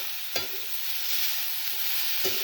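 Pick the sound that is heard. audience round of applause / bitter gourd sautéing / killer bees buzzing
bitter gourd sautéing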